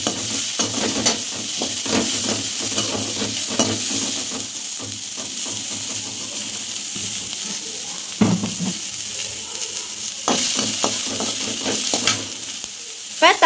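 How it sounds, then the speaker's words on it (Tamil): Tomatoes sauté in a hot frying pan, a continuous loud sizzle broken by repeated scraping strokes of a spoon stirring them, close up and without talk. "தக்காளி போட்டு கிண்டணும்."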